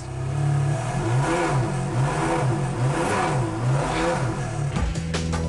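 A Ferrari Enzo's engine runs steadily near at hand, a loud, even, throbbing mechanical drone with slight pulsing, then a sudden shift in tone near the end.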